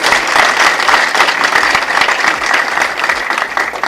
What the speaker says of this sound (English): Please give them a half round of applause.